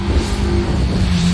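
A Toyota Greenhouse Corolla rally car competing in a sprint event, its engine running loud and close with a steady low drone held across the whole moment, no voices over it.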